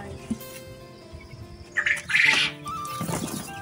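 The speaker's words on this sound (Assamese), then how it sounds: "বটা চৰাইৰ সৰু পোৱালি।" Week-old Japanese quail chicks in a brooder on a farm give thin high peeps, a few brief chirps and one louder burst, close but moderate over a low background hum.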